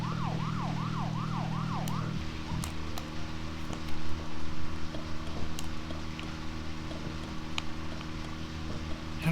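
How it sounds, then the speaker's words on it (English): A police car siren in the Deadly Premonition Origins video game wails in a rising-and-falling cycle for about two seconds, then cuts off, leaving a steady engine drone with a few clicks over it. "Put the sirens on."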